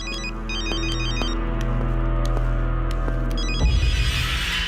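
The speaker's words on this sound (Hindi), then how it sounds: "रिंग बजी तो थी।" A telephone rings with a loud, close, rapid electronic trill repeating in bursts over a loud film soundtrack, ending as a heavier thud cuts in.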